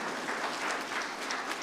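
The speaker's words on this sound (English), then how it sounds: "We can clap for that." Audience applause fills a national research excellence awards ceremony, a steady, dense wash of many hands clapping at an even level from start to finish.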